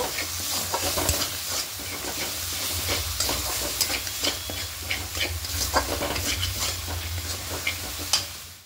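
Spice paste for a vegetarian cabbage curry fries in a pan, giving a steady close sizzle broken by repeated scraping and stirring strokes throughout.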